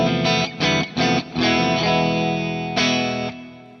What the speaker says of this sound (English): Okay, so we're playing into a clean 18-watt Marshall style capture.